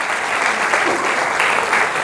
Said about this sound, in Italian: vieni qua, un applauso!